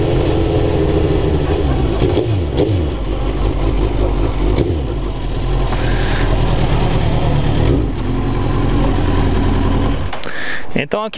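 A Suzuki GSX-R 1000 SRAD K3 motorcycle engine with a suspected stator or rectifier fault runs close and loud at low revs, chugging unevenly with occasional rises in pitch, while someone talks over it.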